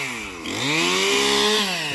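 A chainsaw cuts into a 25-year-old Christmas tree close to a house, the engine loud and near, its pitch dipping then rising steadily as the chain bites through the wood.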